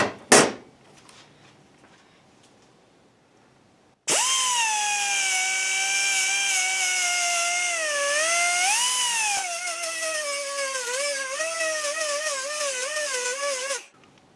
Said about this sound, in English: So what I will do is sand down some of that material